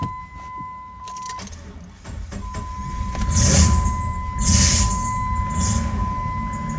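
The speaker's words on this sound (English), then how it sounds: "And the car is trying to turn on." A car with a weak battery tries to start: keys jangle, a tone chimes, then the starter strains in two rising bursts of whirring cranking that fail to catch, fairly loud and close inside the vehicle.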